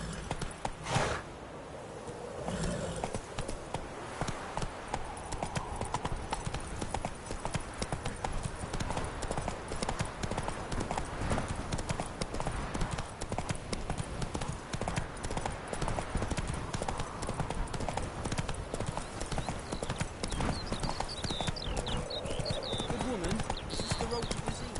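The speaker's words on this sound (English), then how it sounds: "Whoa there, Roach" Horse hooves clip-clop in a steady, rapid rhythm as a horse travels in The Witcher 3 video game, loud and continuous throughout, with a brief thump at the start.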